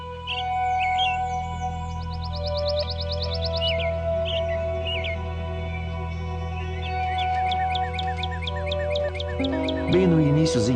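Garden birds call in early spring, layering rapid trills, chirps and repeated whistled notes close by over a steady low hum, with a voice entering near the end.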